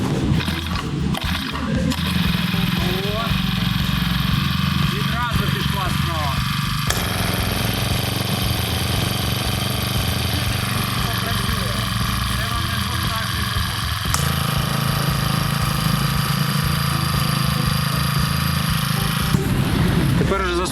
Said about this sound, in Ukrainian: Таке відчуття, що працює не двигун від мотокоси, а якийсь мопед там чотирьохтактний